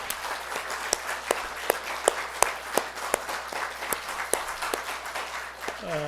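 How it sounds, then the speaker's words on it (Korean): A church congregation at Sunday worship claps in a large hall, many hands in a steady, moderately loud applause with distinct sharp claps standing out in a regular rhythm. "우리 한번 큰 박수로 하나님께 영광을"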